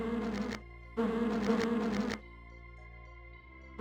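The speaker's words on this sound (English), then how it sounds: "I hear bees somewhere." Bees buzz in the Lands of Lore video game, two loud droning bursts with a short pause between them, then a quieter steady hum continues alone.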